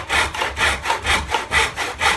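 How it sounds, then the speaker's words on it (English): Hand saw cutting through wood in a mitre box, with about eight rhythmic back-and-forth rasping strokes, close and steady, with no talking. "Check we're sawing on the waist side of the line."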